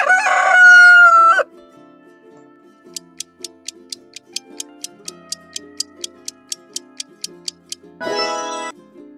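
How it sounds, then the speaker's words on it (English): A rooster crows loudly once, followed by a steady run of sharp clock ticks, then a short burst of a new sound at the end. "Roosters crow to tell everyone morning has come."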